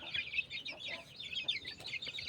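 A hen clucks repeatedly in short, bright bursts, fairly close but quiet, with a few chirpy notes in between.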